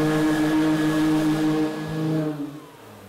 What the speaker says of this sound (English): we're going to turn on the hovercraft